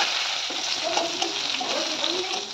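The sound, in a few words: potato, eggplant and pointed gourd frying in oil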